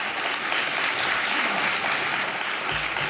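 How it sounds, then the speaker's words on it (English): Dense audience applause for a keynote speaker at a research symposium, a continuous, even wash of many hands clapping throughout. "Please join me again in a round of applause for our keynote speaker, Dr. Ai Ling Tan."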